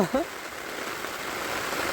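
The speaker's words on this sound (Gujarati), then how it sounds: "વરસાદ એટલો પડે તો વાત પૂછો" Steady rain falls in a broad, even hiss throughout, with a brief voice at the very start.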